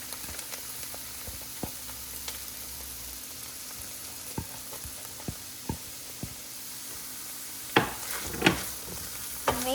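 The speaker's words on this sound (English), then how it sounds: "So when it is golden brown, just add the chopped onion. Then add the chilies." Garlic, chopped onion and chilies fry in a pan with a steady close sizzle, scattered ticks and pops, and a few louder stirring scrapes near the end.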